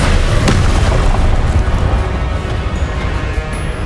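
A Confringo spell blast in Hogwarts Legacy sets off a loud booming explosion with a sharp crack near the start, then a rumbling roar that slowly fades over several seconds.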